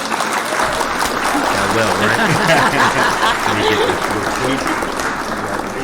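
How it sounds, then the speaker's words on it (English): A canned applause sound effect plays in a radio studio, a steady dense patter of clapping running the whole time beneath people talking. "Let's hit the claps."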